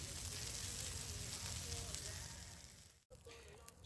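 Onions, mushrooms and potatoes sizzle in a pan over a campfire, a dense, steady crackling hiss that briefly cuts out near the end before resuming, no talk.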